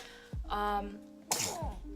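Two quick sneezes close by, each a sharp burst of breath and voice, the second following about a second after the first.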